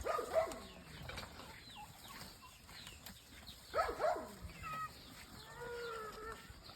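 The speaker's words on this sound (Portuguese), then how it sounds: "Os gatos estão aqui." Several cats meow in short, rising-and-falling calls, one after another at moderate distance, with faint farmyard noise in the background on a farm in Rio Grande do Norte.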